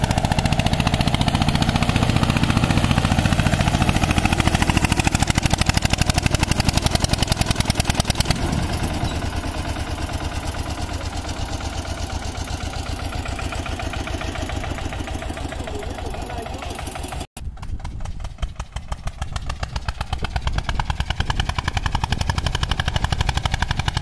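An Eicher 241 tractor engine is held at full throttle as it labours up a slope, giving a loud, continuous and rough mechanical drone that barely changes for the whole stretch, with no voices.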